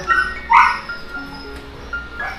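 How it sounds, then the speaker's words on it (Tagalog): A dog yips and barks in a few short, sharp bursts close by, with whimpering tones between them and no talk over it. "masakit sa tenga kasi yung audio ng ingay ng aso sa video"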